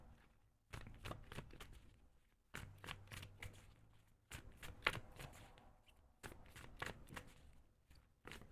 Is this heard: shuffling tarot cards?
yes